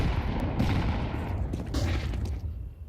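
Pistol gunfire rattles through a Counter-Strike match at the BLAST Premier Open London esports tournament: a dense, rapid burst of shots over a constant game-noise bed, moderately loud with no talk.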